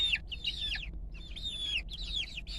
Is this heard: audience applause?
no